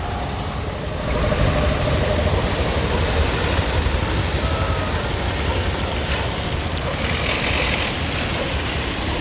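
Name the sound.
car engine passing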